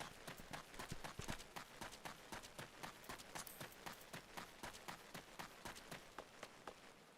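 Horse hooves clip-clop at a steady trot in Final Fantasy XIV, a quick, even rhythm of hoofbeats close up and moderately loud with no talking over them.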